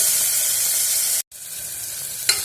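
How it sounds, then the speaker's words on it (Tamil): Tomatoes sauté in a pan with fried onions, giving a steady hiss and sizzle that cuts out briefly, then resumes with a short flare of crackle near the end. "இது கூட தக்காளி சேர்த்து நல்லா வதக்கணும்."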